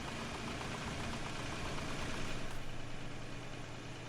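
A fully repaired tractor engine in the Farming Simulator 22 video game runs steadily, a continuous mid-pitched engine drone with a faint knocking texture, alone and at an even level.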